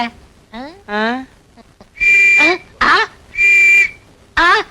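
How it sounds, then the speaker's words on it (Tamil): A whistle-like sound made by mouth in a Tamil comedy scene, several loud sustained shrill tones in separate bursts, alternating with voices talking. "அப்புறம் ஏன் விசில் ஊதுற"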